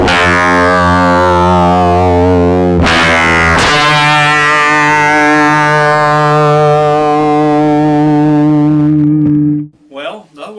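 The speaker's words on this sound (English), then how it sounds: "we'll get the same extremely ugly distortion effect now when we have it behind the amplifier in the effect loop" An electric guitar played through a Kemper profiler with a booster and shaper in the effect loop behind the amplifier, producing a harsh, ugly distorted sustained chord that is re-struck partway through, rings loudly, then cuts off abruptly.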